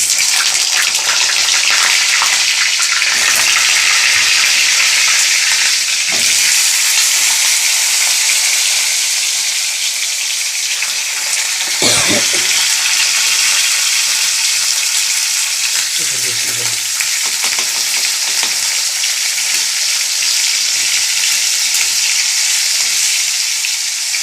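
Pointed gourd (potol) slices, salted, frying in hot oil in a pan: a loud, continuous close sizzle with occasional scrapes and stirring clatter throughout.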